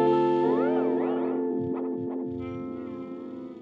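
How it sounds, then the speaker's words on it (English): Notes played through an analog delay pedal warble and swoop as the delay time is changed mid-playing, giving pitch-bending echoes that dive and rise before trailing off, with no speech. "That's just me playing with the time of the delay."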